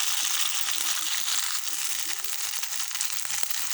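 A ginger spice paste fries in a pan with browned onions for a fig dish, hissing in a loud, dense, continuous sizzle close by, with faint stirring scrapes beneath it.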